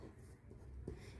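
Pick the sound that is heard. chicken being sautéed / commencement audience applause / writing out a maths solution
writing out a maths solution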